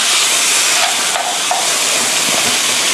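Pork ribs with lemongrass and fish sauce stir-fry in a pan, a loud, dense, continuous sizzle and hiss close up, with faint scraping of a utensil now and then.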